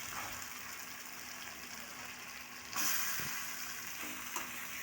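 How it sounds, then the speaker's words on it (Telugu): Chicken sizzles in a pan of softened tomatoes as it is stirred, a steady soft frying hiss with a few brief scrapes and clinks, quiet and without talk. "చికెన్ వేసుకుని బాగా కలుపుకోవాలి"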